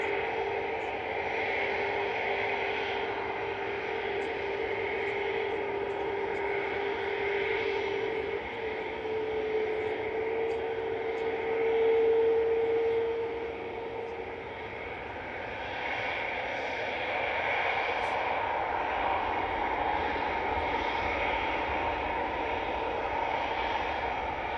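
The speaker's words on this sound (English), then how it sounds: "Turn A320neo departing next." An Airbus A320neo departs from runway 23 left at Manchester Airport, a steady, distant jet engine roar and rushing whine that holds for over twenty seconds, swelling slightly midway with no talk.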